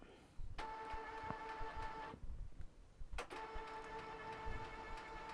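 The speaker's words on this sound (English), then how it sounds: "So there goes my printer whirring away there" A home printer whirs mechanically while printing pages, with repeating motor passes and brief pauses between bursts, fairly quiet and close.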